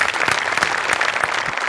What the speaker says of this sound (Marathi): त्यामुळे नमासाठी पण एकदा जोरदार टाळ्या व्हायला पाहिजेत.